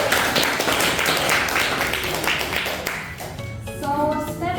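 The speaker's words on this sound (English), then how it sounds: "Give applause, everyone." A classroom of students applauds in a dense, continuous patter that fades after about three seconds, with a voice beginning to speak at the end.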